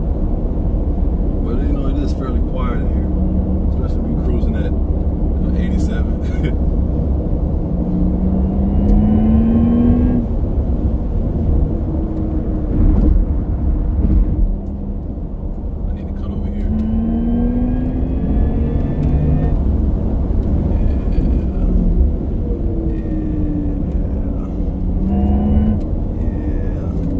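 Steady low road rumble and tire roar fill the cabin of a Porsche Taycan Turbo electric car cruising at highway speed, with a faint rising whine at times and a person talking over it throughout.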